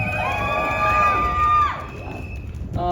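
Crowd at a rally cheering and whooping, with rising and falling voiced shouts over a steady crowd roar that drops off after a couple of seconds, then a brief renewed burst.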